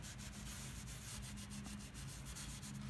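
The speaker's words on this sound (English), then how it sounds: "I'm just gonna take it, like I said, and rub the stain on it" Paint stain being rubbed onto a vinyl-cut stencil, a steady, close scrubbing and rubbing texture that continues without pause and with no talking.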